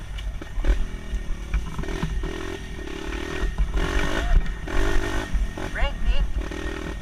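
A motorcycle engine runs close by with a steady rumbling drone and small rises in revs, loud throughout while people talk over it.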